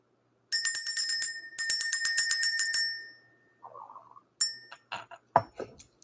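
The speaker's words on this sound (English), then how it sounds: "Let's ring this bell." A small bell is struck twice in quick succession, each ring holding a bright shimmering tone that decays over about a second, followed by faint clinks and soft handling noises; close and clear with no talking.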